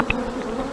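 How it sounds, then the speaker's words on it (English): Honey bees buzz at an open hive during a springtime inspection, with frames lifted out; a steady, close drone fills the short moment alone. "we're getting right into the heart of the hive"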